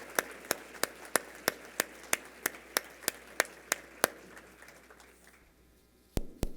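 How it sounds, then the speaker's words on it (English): Scattered applause for speaker Dan at a roundtable event. It comes as a steady run of sharp, evenly spaced claps that thin out toward the end, fairly quiet, with a final louder clap after a pause. "can we give Dan a big round of applause and a thank you for all your work?"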